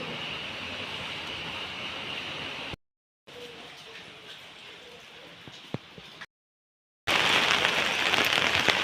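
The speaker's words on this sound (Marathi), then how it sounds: "खूप पाऊस चालू आहे" Steady broadband hiss of heavy monsoon rain pouring down in Pune, close and continuous, broken by two brief silent gaps; the final stretch is louder and denser.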